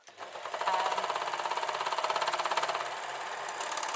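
A sewing machine or overlocker stitching a fabric Christmas stocking runs steadily at speed. Its rapid, even mechanical chatter is close and fairly loud, with no talking.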